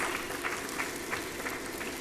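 Applause from an audience at a corporate 20th-anniversary celebration for the company Cobil, a steady, dense wash of many hands clapping continuously, moderately distant and without talk over it.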